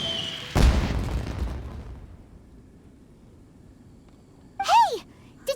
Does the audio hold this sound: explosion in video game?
yes